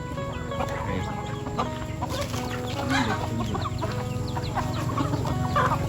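Chickens clucking close by on a rural Thai farm, a steady chorus of overlapping clucks and calls over constant background noise, with no talking.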